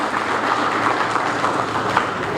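An audience claps at the opening of a fire station, a steady, even wash of many hands applauding with no break across the moment.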